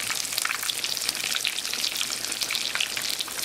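Slices of eggplant for eggplant parmigiana fry in a pan of hot oil in a home kitchen, giving a steady, dense crackling sizzle with no voices.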